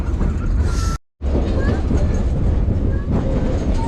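A train rumbles along an isolated Nevada Northern Railway track near Ely, Nevada. The loud, steady rolling roar is broken by one brief dropout, and faint squeals rise over it.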